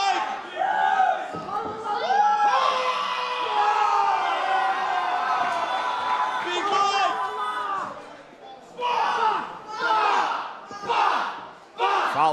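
A wrestling crowd at the Starland Ballroom roars and chants in a loud, sustained wall of voices, then breaks into rhythmic bursts of cheering toward the end.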